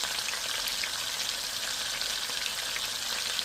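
Koi fish fry hard in hot oil in a pan, producing a loud, continuous, close crackling sizzle like steady rain, with no voices over it.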